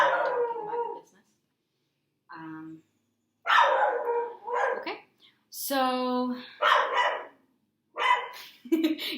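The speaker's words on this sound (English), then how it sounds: "your dog's really going wild" A dog barks, yips and howls in loud, close bursts between stretches of speech, with a person talking over and around the outbursts.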